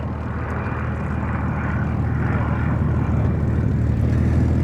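A Bf 109 fitted with a Rolls-Royce Merlin engine flies at the Duxford Battle of Britain air show, its piston engine a steady, loud, full-bodied drone with propeller roar that holds throughout without a break.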